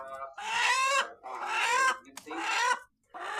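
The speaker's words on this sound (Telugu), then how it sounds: "మీకు ఇప్పుడు పెట్టిన కోడి బ్రీడర్ అయితే చూపిస్తాను" Breeder hen clucking just after laying an egg, loud and close, in three or four drawn-out cackling bursts separated by short pauses, with no one talking.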